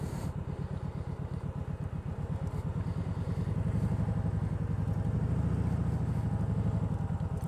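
A motorcycle riding slowly around a parking lot, its engine chugging in a rapid, even putter that swells a little as it revs, close and steady throughout with no talking.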